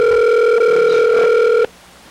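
A telephone tone during a personal phone call: one steady, loud electronic tone held for about a second and a half before it cuts off abruptly, leaving a faint background.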